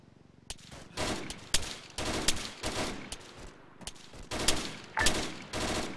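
Repeated bursts of gunfire in a military shooter game, loud clustered shots arriving in irregular volleys with short gaps between them, close and alone without talk.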